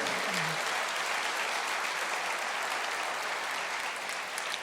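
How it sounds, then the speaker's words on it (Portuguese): A church congregation applauds in a steady, dense wash of clapping that fills the space evenly from start to finish, loud and sustained with no voices on top. "Pode aplaudir"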